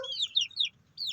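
A native rooster clucks in a few quick, close, high-pitched bursts, separated by short pauses.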